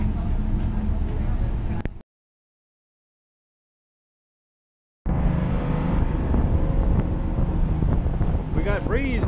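Breeze blowing over open water with whitecaps on a boat trip to Tangier Island, loud continuous wind rush and engine hum, cutting out to silence for a few seconds before resuming.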